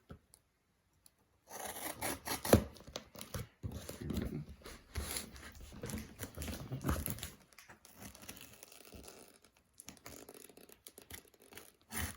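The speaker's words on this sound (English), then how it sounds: "Just using the X-Acto knife here." An X-Acto knife slices open a sealed mail package, making close, faint scraping and crinkling sounds in short strokes and rustles after a brief silence.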